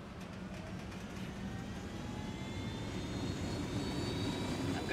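A helicopter in the Ghost Recon video game passes overhead, a steady engine and rotor drone that swells slightly toward the end, heard alone without talk.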